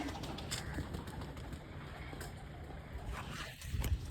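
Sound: pigeons

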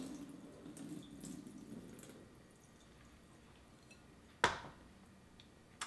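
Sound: draining ice water from soaked sweet potato slices

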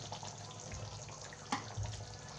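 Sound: pouring half a cup of water into chicken curry

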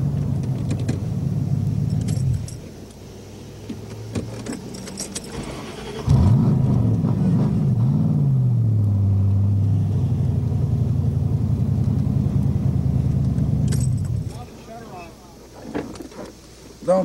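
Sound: Corvette race cars on track

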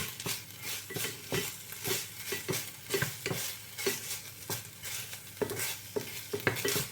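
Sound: pork stir-frying with garlic in pan

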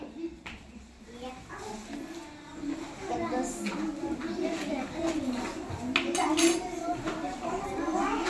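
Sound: spoon being picked up in a kids' game

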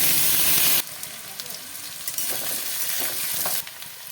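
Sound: onion, radish, potato and five-spice frying in hot mustard oil

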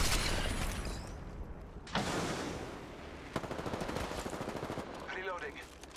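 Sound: gunfire in the video game Apex Legends

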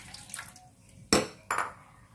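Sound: water poured into a pan for sauce

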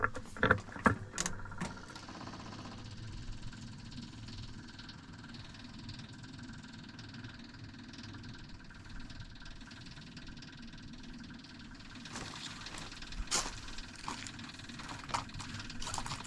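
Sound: Ventrac tractor engine idling

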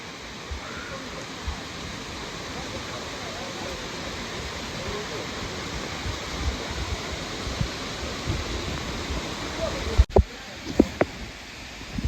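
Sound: forest waterfall

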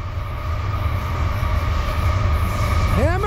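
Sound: Norfolk Southern freight train running at full throttle

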